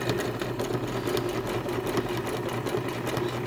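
Sewing machine stitching a patch onto ripped jeans, running steadily with a rapid, even mechanical whir and needle chatter throughout, close and alone.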